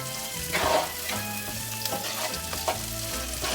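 Beans sauté in a hot pan, giving a steady close sizzle and frying crackle, with occasional scraping and stirring sounds and no talk.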